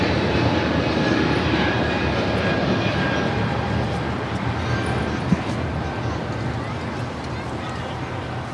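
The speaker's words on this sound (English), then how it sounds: "Air China, the 777, heading back to Beijing, rocking and rolling down at 24 left" An Air China Boeing 777 rolls down runway 24L at LAX on its takeoff run, a steady loud broadband engine roar holding throughout with a faint tonal whine, while a voice talks over it.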